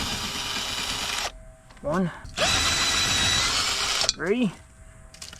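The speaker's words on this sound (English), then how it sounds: "The drill, the old Craftsman 18 volt that I've had since like 2008" An old Craftsman 18-volt cordless drill, owned since about 2008, whirs loudly in two long sustained runs of several seconds each, with a voice counting in the pause between and after.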